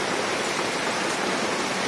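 Heavy rain pours down on a large festival pavilion built for a Ramlila celebration in Kanpur, a loud, dense, unbroken hiss with no voices.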